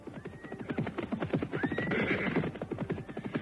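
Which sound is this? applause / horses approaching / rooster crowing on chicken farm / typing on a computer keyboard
horses approaching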